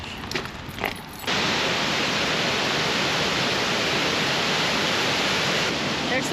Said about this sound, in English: Sorry if it's really loud, but it's super windy out here.